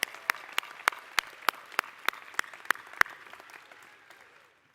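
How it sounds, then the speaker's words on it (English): A large crowd at a university graduation commencement applauds steadily, a dense wash of clapping with a few sharp claps standing out, holding level for about three seconds and then fading to silence. "Let's give our students and faculty a great round of applause."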